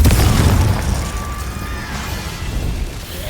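A Confringo fire spell blasts in Hogwarts Legacy, a loud booming explosion at the start that rolls off into a rumbling, crackling tail over a few seconds.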